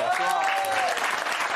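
Studio audience applause at a French morning radio show, a brief burst of clapping heard under a voice talking over it.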